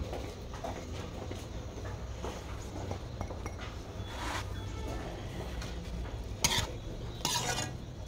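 Coarsely ground spices and oil get stirred into radish pickle, a soft scraping and clinking of a spoon against a bowl that repeats close up, with a few sharper knocks near the end.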